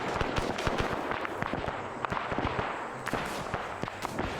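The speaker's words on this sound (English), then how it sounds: "So I'm using suppressive fire commands, basically fire up into the base." Blind suppressive gunfire in a Vietnam-era combat game: dense, irregular cracks and pops of many weapons firing at once, sustained and fairly loud throughout.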